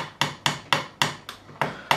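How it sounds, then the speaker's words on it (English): A fretting hammer taps a drift to knock a fret out of the fingerboard of a 2005 Fender Standard Stratocaster held in a vise: seven sharp, evenly spaced close metallic taps, each decaying quickly, with no talk. "I'd get right on the join there and I'd just tap it with a fretting hammer"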